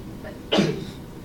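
A single short, sharp sneeze bursts out abruptly, close and fairly loud, then fades into quiet room tone.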